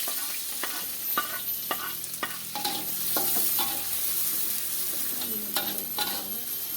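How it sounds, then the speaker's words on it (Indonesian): Onions sizzle steadily in hot oil while a utensil scrapes and clinks against the pan in irregular strokes, close by with no talking. "karena udah panas minyaknya, kita masukin bawang"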